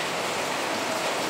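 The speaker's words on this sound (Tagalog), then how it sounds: "Medyo basa rin tayo kasi umuulan pa rin ang panahon ngayon" Steady rain falling in wet weather on an afternoon in the Philippines, a dense, continuous hiss of drops on surfaces, fairly close and even throughout, with no voices.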